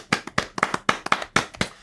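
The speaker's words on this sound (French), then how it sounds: "Dave, mets l'applaudissement pour les deux dehors" A few pairs of hands clapping in a podcast, sharp and close, a loose irregular run of roughly a dozen distinct claps rather than a crowd, with no talk over them.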